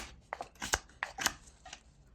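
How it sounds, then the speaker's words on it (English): Knife blade making a few short push cuts into wood while whittling a small beaver figure, a series of close, crisp scraping strokes spaced irregularly with quiet pauses between them. "And then over here we can make this round with a few push cuts."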